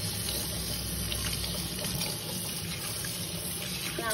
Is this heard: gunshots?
no